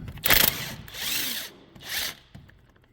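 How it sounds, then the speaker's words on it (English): A power tool whirs in three short bursts, loud and close, as it spins out the 8 mm Allen bolts holding a vehicle axle in place, with a brief clack between bursts. "we can get those 6 bolts out that hold the axle in place"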